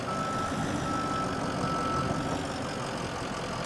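A reversing truck fitted with a plow and wing runs in a snowplow simulator game, its steady engine drone heavy and close, with a continuous backup beeper tone held under the rumble.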